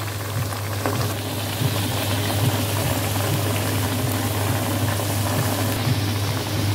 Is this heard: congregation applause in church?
no